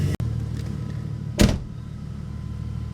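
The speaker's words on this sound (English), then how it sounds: "So we're in the car's idling perfectly." A Mercedes SLK32 AMG idling steadily inside the car, a low continuous engine hum with a brief louder burst partway through, no talking.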